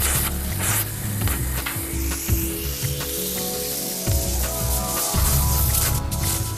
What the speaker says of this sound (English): Work back and forth across it with your torch, melting it into the crack.